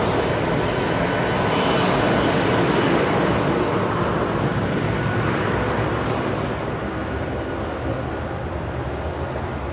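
A British Airways Airbus A350 jet airliner departs Heathrow Airport at night, a loud, steady engine roar that fills the whole stretch and eases slightly toward the end, with no talk over it.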